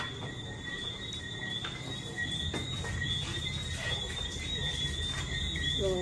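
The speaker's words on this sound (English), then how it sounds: "we'd like for you guys to hear them with us" Tree frogs calling at night in Jamaica after rain, a dense chorus of high, steady trilling tones and chirps layered over a low outdoor rumble, continuous and fairly loud throughout.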